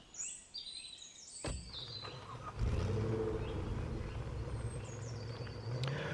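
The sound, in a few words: car driving in video game Police Simulator: Patrol Officers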